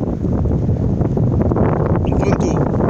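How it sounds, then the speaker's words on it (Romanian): Wind buffets an unshielded microphone outdoors in Romania at dusk, a loud, steady broadband rumble that runs unbroken for the whole stretch. "Vântul, ca de obicei, cred că l-auziți și dumneavoastră, nu e lucru bun."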